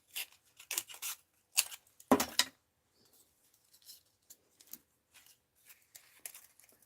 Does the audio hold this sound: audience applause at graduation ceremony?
no